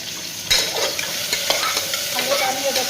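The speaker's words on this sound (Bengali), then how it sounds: "আলুটা আমি দেখো বন্ধু ভেজে নিচ্ছি" Raw potato pieces sizzling in hot oil in a pan, a continuous close frying hiss with spatula stirring scrapes and small crackles on top, fairly loud and without speech.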